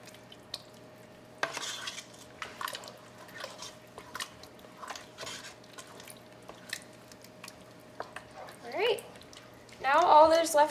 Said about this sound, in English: And then I'm going to give it another good stir.